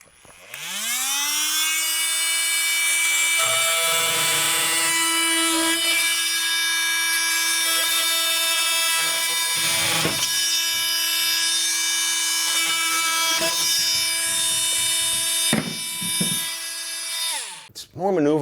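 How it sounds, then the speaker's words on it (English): An oscillating multi-tool cuts through PVC pipe with a loud, steady high buzz that spins up, holds with slight changes in tone as the blade bites, then stops near the end. "The oscillating multi-tool is so infinitely variable."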